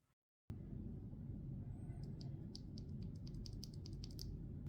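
Mechanical keyboard with hand-lubed ACO Jelly Black switches, typed on in a quick, irregular run of soft, close clicks over a low background rumble, starting after a brief silence.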